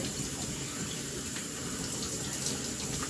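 Steady broadband rush of running water, as from a tap or shower, pouring continuously while curly hair is rinsed; close, even and uninterrupted with no talk.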